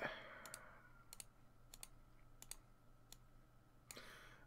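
Sharp mouse clicks in a Minecraft game, scattered singly and in quick pairs at an irregular pace over a low steady hum, close and fairly quiet.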